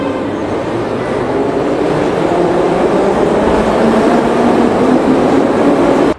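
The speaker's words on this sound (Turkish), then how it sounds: "Sovyet döneminden kalan bir tren." An old Soviet-era metro train in Tashkent rumbles loudly and steadily from close inside the carriage, a continuous roar of wheels and motors with faint rhythmic clatter throughout.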